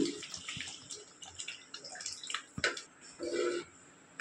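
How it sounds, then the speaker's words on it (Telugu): Tamarind broth poured into a pan of drumstick and egg curry, a soft watery splash with a few brief knocks and a louder gush near the end, close by with no talking. "ఇక్కడ పులుసు పోసేస్తున్నాను"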